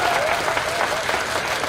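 A stand-up comedy audience applauds at the end of a set, a dense even wash of clapping at steady volume, with faint voices mixed into it.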